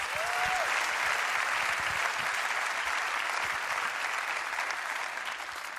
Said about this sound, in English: a round of applause for the win today here in Valencia